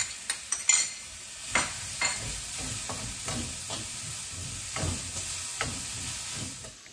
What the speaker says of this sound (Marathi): कांदा चांगला परतवून घेऊया